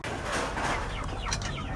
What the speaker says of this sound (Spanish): este grita, este gallo